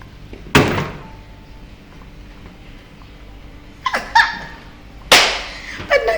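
A household trash bin is opened, giving a sharp lid thunk followed later by a cluster of clattering knocks and another loud bang, close by with quiet room tone between the hits.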